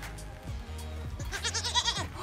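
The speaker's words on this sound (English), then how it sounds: "There's these fun goats that are chilling behind us." Goats bleat in a garden in St Andrews, several short wavering calls close by, clustering toward the end over a low background rumble.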